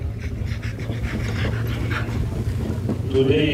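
Rottweiler at an outdoor dog show panting rapidly and steadily up close, rhythmic breaths continuing throughout, with wind buffeting the microphone and a brief voice near the end.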